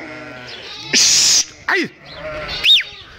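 Lambs and sheep bleat in a farm pen, two or three loud, close cries breaking in between shouted words, with a voice calling out.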